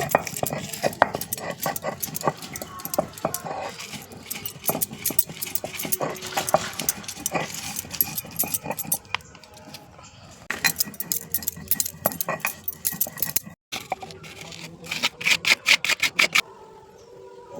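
Fried spices are ground on a flat grinding stone with a stone pestle, giving rapid, irregular scraping and knocking strokes up close, with a few short pauses between bursts.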